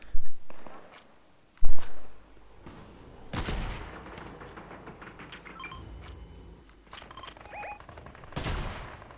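Gunfire in Fortnite, a sharp loud burst near the start followed by scattered single shots and rapid bursts mixed with game effects, with quieter stretches between.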